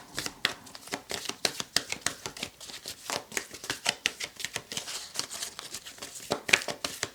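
Tarot cards being shuffled and drawn, a run of quick crisp riffling and slapping strokes close by, steady and rhythmic with no talking.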